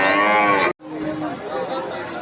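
Cows at a cattle market, with one loud, close moo that bends in pitch before breaking off sharply, followed by quieter background murmur and livestock sounds.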